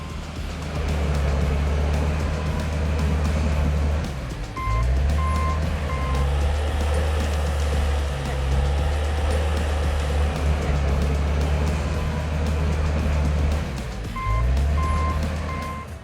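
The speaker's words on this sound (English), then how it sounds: "Let's watch the land clearing for the future industrial park using a John Deere A50L bulldozer." A John Deere A50L bulldozer clears land with a loud, steady diesel drone, while a reversing alarm beeps in short repeating bursts twice over the engine noise.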